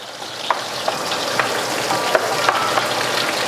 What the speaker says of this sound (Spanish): Entonces lo vamos a sofreír